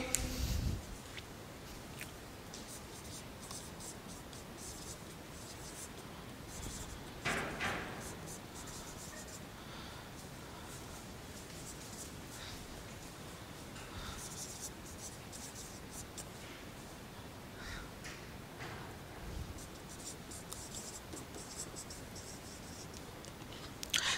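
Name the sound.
writing an example on the board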